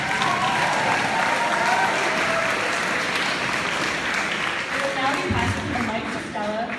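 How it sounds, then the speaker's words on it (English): A banquet crowd applauding winter athletes at a school sports awards dinner, sustained dense clapping throughout with a voice speaking over it near the end. "Please give a big round of applause to our winter athletes"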